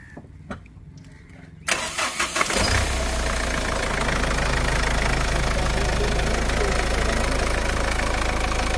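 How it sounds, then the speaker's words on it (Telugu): A Mahindra Xylo diesel engine cranks with a few clattering bursts, catches, and settles into a loud, steady, rumbling idle close by. "మీకు ఒకసారి స్టార్ట్ చేసి కూడా చూపించేస్తాను. జస్ట్ ఒకసారి సౌండ్ అయితే చూడొచ్చు."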